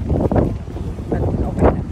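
Strong wind blows at Bahrain Bay, rumbling and buffeting the microphone in loud gusts that swell and fade over a couple of seconds.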